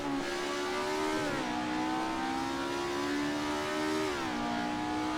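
Ford Escort RS1600 engine racing at the Nurburgring GP circuit in Assetto Corsa, a steady loud drone whose pitch drops with upshifts around the first and fourth seconds, then climbs again.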